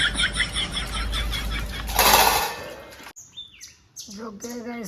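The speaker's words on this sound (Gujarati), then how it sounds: "કેવી ચકલીઓ વાતો કરે છે" Sparrows chirp in quick, high bursts, with a steady mechanical hum underneath at first, then sharper scattered chirps ring out more clearly near the end.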